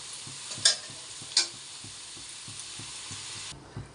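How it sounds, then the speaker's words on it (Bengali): Potatoes fry in a wok under a steady sizzle, with two sharp metallic clanks of a spatula early on and soft rhythmic stirring scrapes throughout, close and alone until the hiss drops off near the end. "এই যে আমার আলু ভাজা হয়ে গেল"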